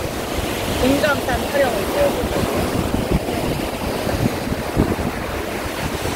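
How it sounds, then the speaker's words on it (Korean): Waves break on Chuam Beach in a continuous, rolling wash of surf mixed with gusty wind noise, while a voice briefly speaks over the steady roar. "여기서 파도 소리 들으면서"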